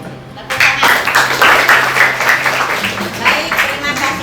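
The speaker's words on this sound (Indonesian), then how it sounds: "Tepuk tangan." Schoolchildren in a classroom break into hand clapping, loud and rhythmic, in a patterned burst with a background hum, with voices mixed in.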